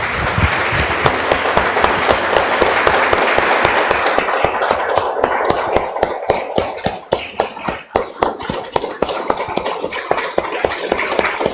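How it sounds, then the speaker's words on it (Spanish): A church congregation applauds after a prayer, a dense sustained wash of many hands clapping that thins into distinct individual claps toward the end, with no talking over it. "Damos un aplauso, hermanos, Señor."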